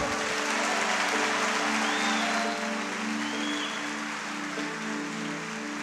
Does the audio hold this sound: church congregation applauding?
yes